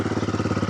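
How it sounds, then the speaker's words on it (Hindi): A Royal Enfield Guerrilla 450 motorcycle idles with a steady, even exhaust thump, its pulses close and fairly loud, with no voices over it. "और एग्जॉस्ट नोट आपको सुना देता हूँ"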